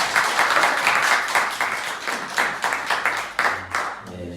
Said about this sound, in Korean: 우리 잘 회복하실 수 있도록 박수 한번 치고